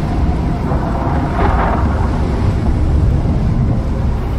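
Thunder from a lightning storm in the survival game Icarus rolls loudly and close, one deep rumble swelling to a peak midway and then continuing as a sustained low roar.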